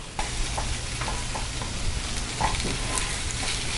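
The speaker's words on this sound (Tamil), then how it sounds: "இஞ்சி பூண்டு பேஸ்ட்டு நல்லா வதங்கிட்டுருக்கு." Steady crackling sizzle of ginger garlic paste sautéing in a pan, with occasional soft scrapes of a spoon stirring; no voices.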